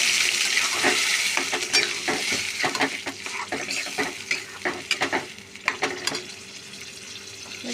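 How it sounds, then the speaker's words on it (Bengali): Banana stem paste fries in a wok over a tempering of dried red chillies, sizzling steadily while a spatula stirs and scrapes the pan with repeated scraping strokes and clinks, close and alone without talk. "আমি এটা নেড়ে চেড়ে শুকিয়ে নেব।"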